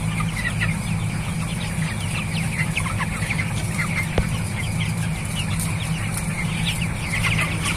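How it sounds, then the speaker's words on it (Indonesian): A crowd of broiler chickens, many of them males, clucking and chattering continuously in a poultry house, with steady low background hum, a dense busy flock nearby. "Ini banyak ayam broiler yang jantan."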